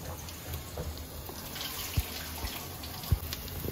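Soaking water being drained off soaked rice for jeera rice in a kitchen, a soft continuous trickle and pour with a couple of louder splashy knocks, quiet and close.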